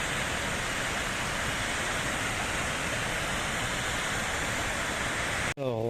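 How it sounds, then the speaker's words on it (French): A small waterfall in a gorge, a steady loud roaring rush of water close by, broken only at the very end as a voice begins to speak. "Alors, on arrive au départ de cette petite cascade."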